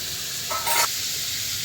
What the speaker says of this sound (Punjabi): ਆਪਾਂ ਹੁਣ ਪਾ ਲਿਆ ਬਟਰ ਦੂਸਰੇ ਪੈਨ ਦੇ ਉੱਤੇ